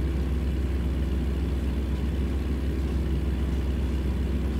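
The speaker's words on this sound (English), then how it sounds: "Can you guys hear the truck?" A heavy truck engine in American Truck Simulator drones at a steady, even pitch for the whole stretch, a constant low rumble with no changes, heard alone.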